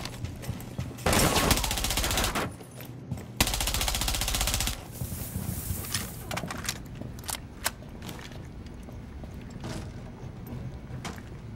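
Automatic gunfire in Rainbow Six Siege during a Plane team deathmatch bomb round: two long, loud machine-gun bursts followed by scattered sharp single shots and clicks, close and dense.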